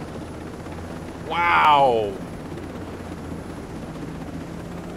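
Helicopter flying in Ghost Recon Breakpoint, a steady low rotor drone with a swelling whoosh midway, while a man's exclamation briefly rises over it.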